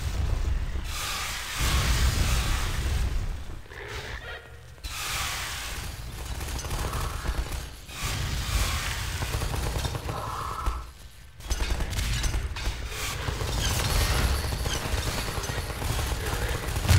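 Gunfire in Half-Life 2, dense bursts of rapid automatic shots with loud booming impacts, repeated across the whole stretch with short pauses between volleys.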